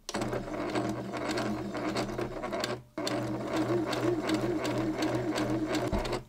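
Sewing machine stitching a thrifted sweater, a loud close rhythmic whirring in two runs separated by a brief pause, then a small clunk near the end.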